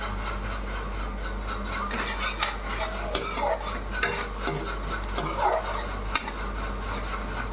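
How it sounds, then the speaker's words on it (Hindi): Onion, green chili, cumin and asafoetida fry in a pan with a steady sizzle, while a utensil stirs and clinks against the metal in scattered scrapes, close and without talk, over a constant low hum. "यहाँ प्याज बन रही है, हरी मिर्च डाल दी है, जीरा डाल दिए, हींग डाल दी है"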